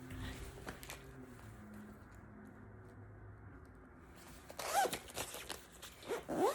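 A zipper closes on a heated vest pocket holding a power bank, a short quiet rasp, followed by louder fabric rustling and handling close to the microphone.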